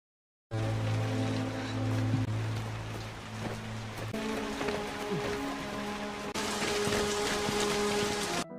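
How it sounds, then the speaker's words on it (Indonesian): Steady rain falling at night in a dramatic film scene, a continuous dense hiss that brightens and thickens partway through, with a low musical drone underneath and no talking. "Lalu hujan pun turun."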